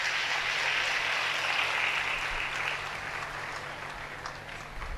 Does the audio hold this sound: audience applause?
yes